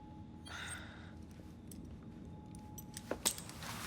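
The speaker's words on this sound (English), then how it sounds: "Now hand over your keys." Keys jangle briefly as they are handed over in Assassin's Creed Syndicate, a few close metallic clinks near the end after a quiet stretch with faint background sound.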